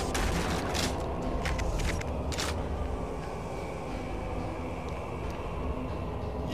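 Gunfire from shooting in Doom 3 on Xbox: a dense spray of shots crackles in quick bursts over a steady, roaring game backdrop, strongest early on and then fading into the continuous rumble.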